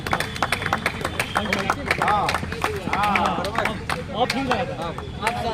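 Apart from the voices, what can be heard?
audience clapping for Dr. Manish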